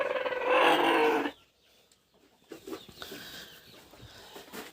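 Backyard chickens cluck in a rain-flooded outdoor run, a loud, dense burst of calls up close for over a second, then quieter scattered clucks and rustling.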